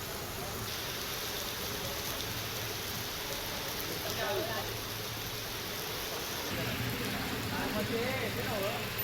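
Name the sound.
heavy rain falling in Kolhapur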